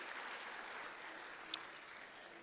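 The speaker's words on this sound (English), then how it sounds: "please welcome Dr. Azad with a round of applause" Applause from students and guests at a university orientation program for new first-year undergraduates, a steady, fairly faint wash of clapping throughout with one sharper clap standing out near the end.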